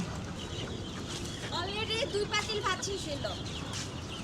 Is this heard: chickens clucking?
yes